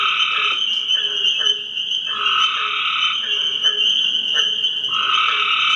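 Cope's gray tree frog calling in a dense chorus, a loud continuous trilling with overlapping pulsed calls from several frogs, close and steady throughout.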